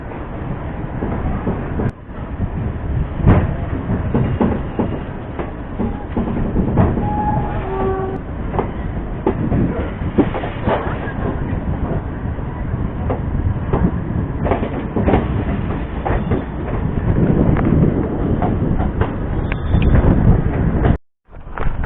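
Farakka Express train pulling out of a station, a long continuous rumble and rail clatter with rhythmic clicking of wheels over joints, loud and close, ending abruptly.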